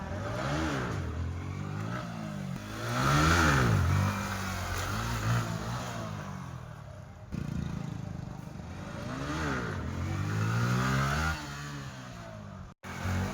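A motorcycle engine revs repeatedly on a street in Noida, with loud, rising and falling throttle bursts close by, repeated over several seconds.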